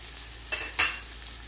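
Brinjal pieces frying in a pan for brinjal masala, a soft steady sizzle with two quick spatula scrapes close together, near and with no voices.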